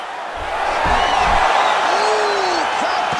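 A crowd cheers and roars at a UFC 5 video game fight as a fighter escapes a submission, a loud sustained swell of voices with whoops, under a commentator's talk.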